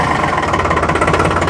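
A tractor engine idles with a steady, close chugging rumble, its rapid regular knock continuing without pause.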